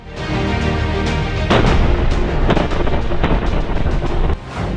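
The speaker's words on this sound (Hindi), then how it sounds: "यूक्रेन पर रूस की ताबड़तोड़ बमबाजी" Heavy explosions from a Russian bombardment and missile attack on Odesa, Ukraine: loud, rumbling booms and sharp blasts follow one another over continuous roaring noise.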